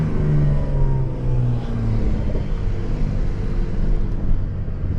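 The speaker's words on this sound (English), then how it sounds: "Some exhaust notes." Porsche 911 992 Turbo S exhaust revving, a loud deep rumble with rising and falling engine tones, heard alone and up close.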